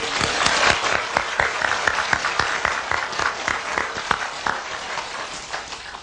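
A church congregation claps together in dense, continuous applause that is loudest at the start and gradually thins and softens, with no voices standing out.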